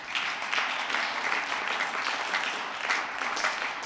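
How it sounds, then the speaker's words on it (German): Sustained applause from a large audience at a party conference, dense steady clapping filling the room without a break and with no talk over it. "Ein kräftiger Applaus."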